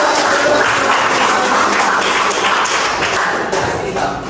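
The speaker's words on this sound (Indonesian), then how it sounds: "Oke, tepuk tangan buat kalian semua." Classroom applause from a group of students, a dense steady patter of many hands clapping at once, loud and continuous throughout, tapering slightly toward the end.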